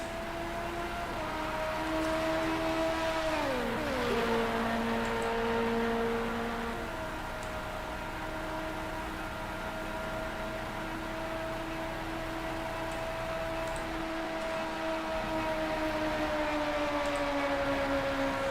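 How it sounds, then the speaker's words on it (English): A racing car engine in the Le Mans racing video game, revving at maximum at about 290 km/h on the straight, holds a loud, steady high-pitched whine. Its pitch dips briefly early on, then stays level for the rest. "Just hear that car revving at its maximum, 290 kilometers an hour down the Mills on straight."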